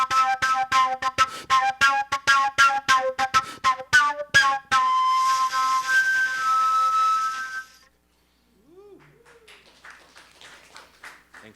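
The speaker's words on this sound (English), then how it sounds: "That's by overblowing and holding the harmonic series notes together." Nay end-blown flute played with overblown multiphonics, harmonic series notes held together: a run of short separate tongued bursts, then one long sustained rich chord, followed by faint softer sounds after a brief pause.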